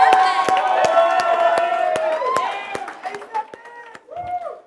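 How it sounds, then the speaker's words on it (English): Audience at a Halloween special show breaks into loud applause and cheering with whoops, sustained and close, gradually thinning toward the end as a voice or two rises over it. "One more round of applause for Ange Martini."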